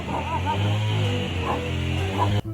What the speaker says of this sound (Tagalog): sinusugod ako ng mga aso